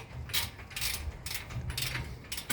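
Several sharp mechanical clicks from a torque wrench tightening a Toyota Tundra's rear brake parts, close by, coming in uneven bursts with brief pauses between them.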